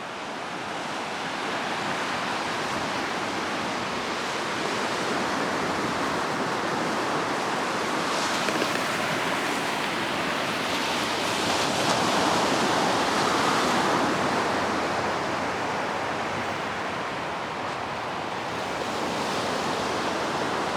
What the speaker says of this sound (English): Tropical beach.